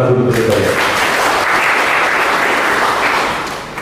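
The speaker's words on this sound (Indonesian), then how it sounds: "Tepuk tangan dulu Persebaya." Loud audience applause for the Persebaya football club at a stakeholder discussion in Surabaya, a dense burst of clapping that rises right after a voice at the start and stays full throughout.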